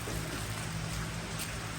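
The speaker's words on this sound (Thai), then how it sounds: "ฝนตกเลยพี่น้อง" Rain pours down outdoors as a dense, steady hiss that fills the whole moment without a break, with no voices over it.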